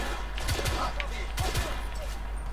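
Gunfire in the video game The Order 1886, a few quick bursts of shots under game ambience, with a voice mixed in.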